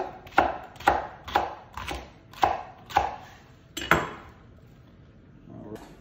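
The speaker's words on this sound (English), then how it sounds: "Just coarsely chop those." Knife coarsely chopping a washed leek on a board, seven sharp, evenly spaced thuds close up, each followed by a short ring-off, then quiet.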